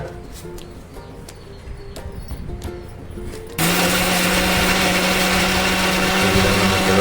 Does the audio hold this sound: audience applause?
no